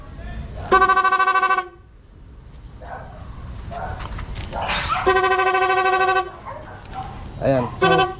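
Vehicle horn on a vehicle fitted with an interrupter switch that changes its tone, blown in two long sustained blasts with a short burst at the end, with people talking between the honks.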